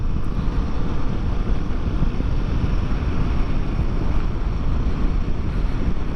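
Steady, loud wind roar and engine rumble from a motorcycle cruising at about 60–65 km/h on a new village road in West Bengal, continuous and unbroken, with no speech.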